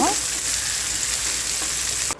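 Steady, loud sizzling of beef and chilli frying in a pan, a continuous hiss with faint stirring clinks, cutting off abruptly at the end.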